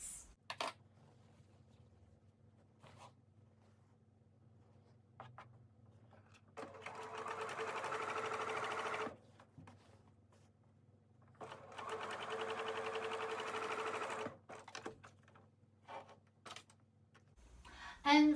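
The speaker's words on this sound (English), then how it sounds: "I will finish the basting of this, the front portion all the way down this way" Sewing machine basting the front of a collared shirt dress, two long runs of fast, steady whirring stitching, close and clear, separated by quiet handling sounds and short pauses.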